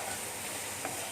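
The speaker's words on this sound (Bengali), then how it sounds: "এবার এই সব মশলা দিয়ে খুব ভালো করে কষিয়ে নিতে হবে।" Spices with cumin powder sautéing in a pan for a fish-head moong dal: a steady, soft sizzle and hiss with no break, fairly faint and close, without talk.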